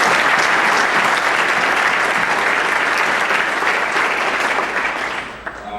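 Dense, loud applause from a dinner audience honouring school senior athletes, steady full clapping that fades slightly at the end.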